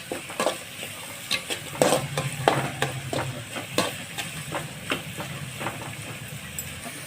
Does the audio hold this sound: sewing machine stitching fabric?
no